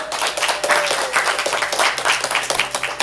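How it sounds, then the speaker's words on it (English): Audience at a live ComedySportz improv comedy show applauding, a dense, steady wash of many hands clapping close by for about three seconds, with a faint voice underneath. "Give yourselves a round of applause."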